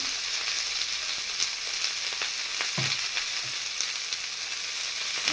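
Vegetables with salt frying in a pan, a steady close sizzle and hiss throughout with a few soft knocks and taps of a utensil.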